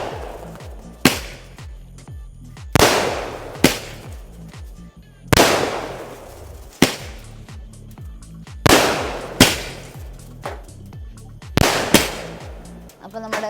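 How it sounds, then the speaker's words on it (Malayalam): A 100-shot sky shot fireworks cake fired outdoors in an open neighbouring plot: about nine loud, sharp blasts at irregular intervals, each followed by a crackling tail, with steady low popping between them. "അപ്പോൾ നമ്മുടെ സ്കൈ ഷോട്ട് നമ്മൾ കത്തിക്കൊണ്ടിരിക്കുകയാണ്, നമ്മുടെ 100 ഷോട്ട്."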